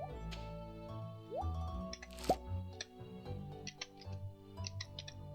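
Soft plops and dripping splashes from watering strawberry crops in Stardew Valley, a few spaced game sound effects alongside light ticking clicks over continuous background music.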